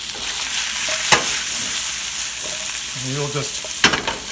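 Zucchini frying in a pan with salt, thyme and sesame seeds gives a steady, close sizzle, with a couple of sharp stirring knocks and a brief voice talking over it partway through.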